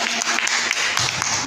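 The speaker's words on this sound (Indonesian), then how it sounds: "Terima kasih tepuk tangan untuk Wina." Applause for a student named Wina at a primary school traditional games physical education lesson, a dense steady wash of clapping filling the whole short moment.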